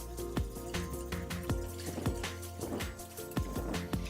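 A whisk scrapes and taps around a pot of milk, butter and flour soup base in quick, irregular strokes, with soft liquid sloshing close by and no talking.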